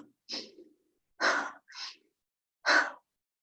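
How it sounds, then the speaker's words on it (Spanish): Staccato breathing drawn sharply in through the nose as a breathing exercise: four short, forceful sniffing inhales in an uneven rhythm, close and clear against silence. "primero empezamos con la respiración, entonces también hay un estacato, pero que entra por la nariz"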